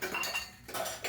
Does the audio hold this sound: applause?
no